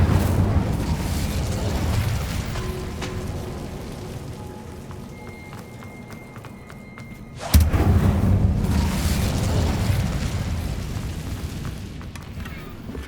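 Incendio fire spell cast in Hogwarts Legacy: a sudden loud burst of flame erupts midway, rising sharply from a quieter rumbling bed of game ambience and then trailing off into a sustained crackling roar.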